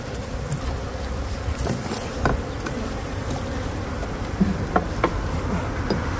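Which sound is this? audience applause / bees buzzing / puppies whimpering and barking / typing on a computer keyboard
bees buzzing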